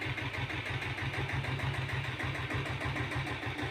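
Royal Enfield diesel Bullet motorcycle idling at slow speed, a steady rapid thumping beat from the single-cylinder engine, close and even, with no voices.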